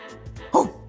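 A person imitates a dog's bark at a cat, a single short, sharp vocal woof rising out of quiet background murmur.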